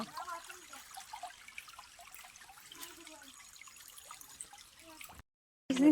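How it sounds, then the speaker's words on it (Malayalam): Soft, continuous trickling and gurgling of water flowing in a stream, fairly quiet, cutting off abruptly near the end. "വെള്ളത്തിൻ്റെ കളകള"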